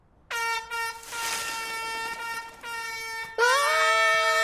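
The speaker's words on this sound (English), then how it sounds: "The guy at the bike shop says it's the loudest bike horn ever made." A very loud, blaring bicycle horn sounds in several long blasts, close and piercing, with short gaps between them.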